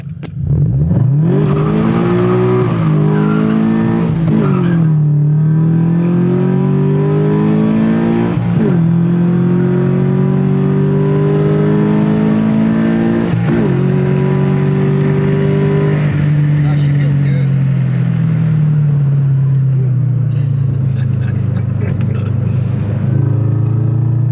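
A Subaru BRZ fitted with a loud Spec D exhaust revs repeatedly, its engine note rising and falling in strong sweeps with occasional pops from the exhaust, close and loud before settling into a lower rumble.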